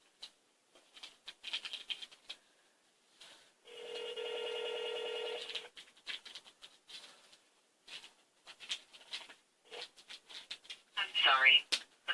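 A telephone rings on an outgoing call, one long ringback tone lasting about two seconds, with soft talk and small handling noises before and after it.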